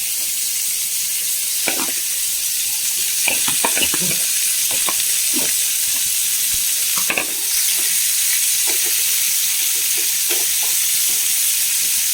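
Cauliflower for a masala fries in a pan with a steady, close sizzle, broken by repeated scraping strokes of a spatula stirring the pieces, and no talking.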